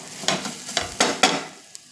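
Grated coconut fries in ghee as it is stirred, soft sizzling broken by several scraping strokes of a spoon against the pan in an uneven rhythm.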